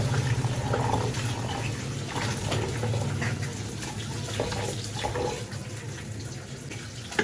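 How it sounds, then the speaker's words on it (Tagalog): Bean sprouts are rinsed under running water in a kitchen sink. Splashing and sloshing go on steadily and close by, with faint intermittent knocks, and there is no talk. "tapos ko nang hugasan yung toge"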